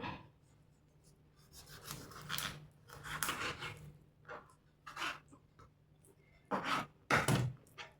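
A knife cutting a king fish into pieces, heard as close, scraping and crunching strokes in uneven bursts, with longer, louder cuts near the end and quiet pauses between them.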